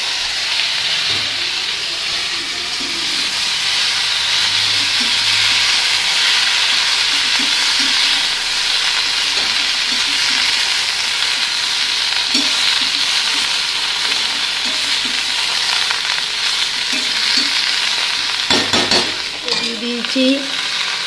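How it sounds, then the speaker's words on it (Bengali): Vegetables fry in oil tempered with bay leaf, dried chili and five-spice. A loud, continuous close sizzle runs throughout with occasional stirring scrapes, and a brief clatter of utensils comes near the end. "ফোড়নে দিয়ে দিচ্ছি তেজপাতা, শুকনো লঙ্কা আর 5 ফোড়ন। এই যে দিয়ে দিলাম সবজি।"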